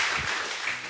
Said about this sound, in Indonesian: Oh, tepuk tangan dulu dong.